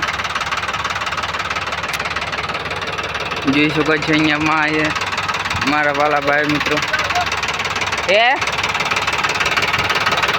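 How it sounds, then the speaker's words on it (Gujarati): A tractor engine chugs steadily throughout, a loud mechanical knocking rhythm, while someone talks over it in short bursts. "ટ્રેક્ટર આવે છે અહીંયા"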